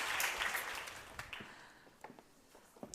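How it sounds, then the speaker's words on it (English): Applause from an audience at an investment summit after a panel session, loudest at first, then fading into a few scattered claps. "A round of applause."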